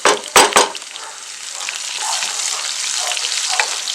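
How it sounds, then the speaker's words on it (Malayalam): Mustard seeds splutter in hot coconut oil with dried red chillies and shallots for a Kerala erissery. A couple of loud pops open the clip, followed by a close, steady sizzle. "നമ്മുടെ കടുക് പൊട്ടാൻ തുടങ്ങി."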